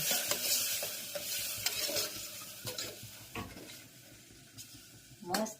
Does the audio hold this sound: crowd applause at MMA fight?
no